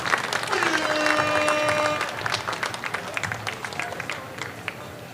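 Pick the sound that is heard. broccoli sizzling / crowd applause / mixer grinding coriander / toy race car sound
crowd applause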